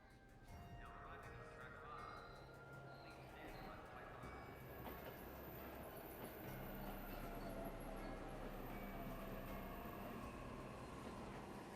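A train runs in the video game 13 Sentinels: Aegis Rim, a steady rumbling rail clatter that builds toward the end with a faint high squeal, while background sounds drift over it.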